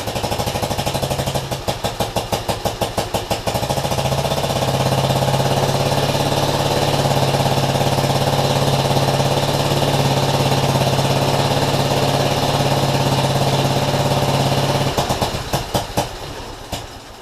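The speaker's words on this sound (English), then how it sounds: "Back together and with fuel in the tank, the Panther delivers some lively kickbacks. And when it finally runs," Vintage Panther motorcycle engine started after a rebuild, a steady loud single-cylinder running note with a sharp rhythmic chuffing at the start and end, heard alone without talk.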